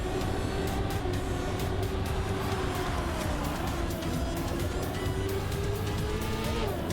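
Car engine hum from the TrackMania racing game, a steady drone with shifting engine pitch that holds at a constant loud level throughout, with no talking.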